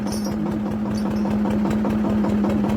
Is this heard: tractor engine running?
yes